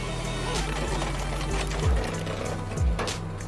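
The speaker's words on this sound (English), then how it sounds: "The machine has an automatic wood processing system that enables precise cutting and splitting of wood." A firewood processor with an automatic cutting and splitting system and a 12-way splitter works through wood blocks, giving a loud, continuous mechanical drone broken by two brief downward-sliding groans.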